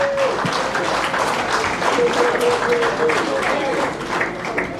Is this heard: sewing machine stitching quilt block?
no